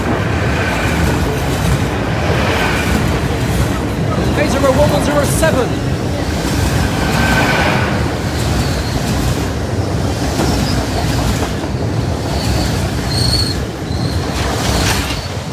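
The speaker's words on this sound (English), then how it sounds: "So this train's running 9 minutes early." Heavy, continuous rumble and rattling carriages of a passenger train passing Lincoln High Street level crossing, close and loud throughout, with a voice speaking over the noise.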